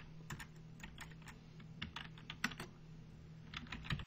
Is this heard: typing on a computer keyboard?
yes